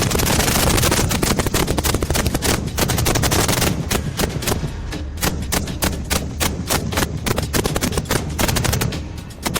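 Rapid, relentless automatic gunfire in loud, dense bursts from an MBT Arjun tank during a military firepower demonstration at a Lucknow ceremony, with shots crackling close together for the whole stretch.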